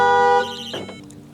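A Thitronik alarm fitted to a converted camper van sounds a loud, steady electronic tone that cuts off after about half a second, followed by a short burst of quieter electronic chirps that fade out.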